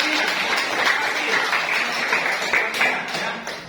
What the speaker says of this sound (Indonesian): tepuk tangan untuk Agnes